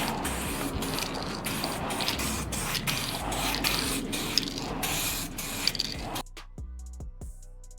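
2K clear coat sprayed onto a painted car wheel, a loud continuous hissing spray with brief pauses between passes, then cutting off near the end, leaving a quiet background.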